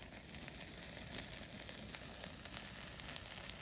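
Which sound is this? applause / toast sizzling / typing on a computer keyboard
toast sizzling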